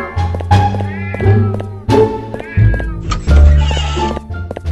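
A cat in Scary Stranger 3D gives a series of loud, close, drawn-out meows, four or five distinct cries in quick succession over a low rumbling background.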